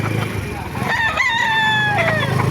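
Roosters crow loudly and close by at the Baliuag poultry market in the Philippines, their long rising-then-falling calls overlapping amid a busy background of clucking and market chatter.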